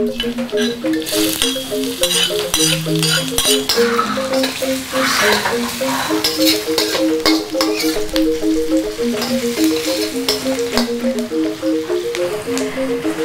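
Sliced shallots fry in a pan of oil for a prawn and bitter bean sambal, giving a loud continuous sizzle with frequent scraping and stirring of a utensil against the pan.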